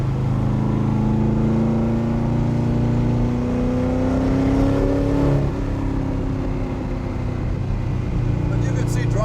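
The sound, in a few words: 1999 Shelby Brock Daytona Coupe engine while driving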